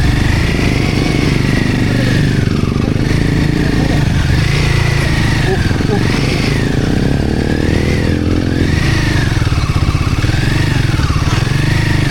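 A Royal Enfield Himalayan motorcycle engine runs loud and close on a slushy, slippery motocamping trail, its drone rising and falling steadily throughout.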